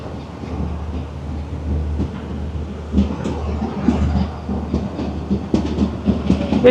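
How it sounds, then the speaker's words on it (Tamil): A train rumbles steadily along the rails with a low, continuous roar and irregular clacks, close and fairly loud, with no talking. "ட்ரெயின் ஸ்டார்ட் பண்ணிட்டாங்க."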